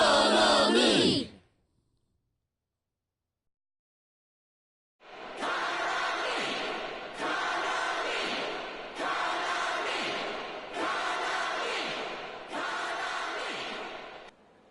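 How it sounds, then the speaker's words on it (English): Crowd of fans in Persona 4: Dancing All Night chanting a name in a steady repeated rhythm, five loud sustained bursts after a short cry and a few seconds of silence. "The crowd's going wild for some reason."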